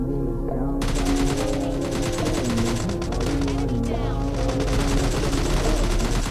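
Dense, continuous gunfire from the mobile battle royale game PUBG Mobile Lite, loud and unbroken, with rapid automatic bursts layered over game music and a faint voice underneath.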